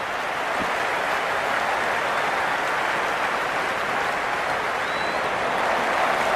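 At an IPL cricket match between Bengaluru and Gujarat, a stadium crowd applauds, producing a dense, steady roar of clapping that holds at even loudness throughout with no clear speech.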